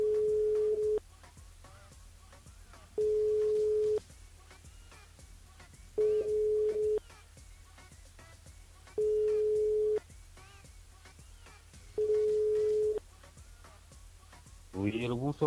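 Telephone line tone during a live radio call-in show, a steady pitched beep sounding for about a second every three seconds, five times, over faint background noise, with a voice briefly at the end.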